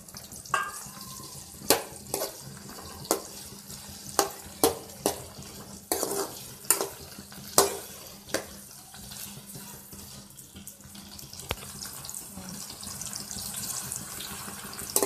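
Onion, green chilli and tomato sizzle in about a hundred grams of oil for mutton curry, a soft steady crackle broken by repeated sharp clinks and scrapes of a spoon stirring against the pan.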